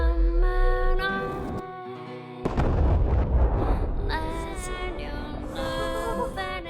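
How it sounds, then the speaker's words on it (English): Massive magic explosion blast from Megumin's spell in an anime, a loud booming burst with heavy low rumble that cuts in sharply after a musical passage and rolls on under ringing tones and a sustained echoing roar. "unleashes a blast so massive it leaves a smoking crater and echoes in the hills"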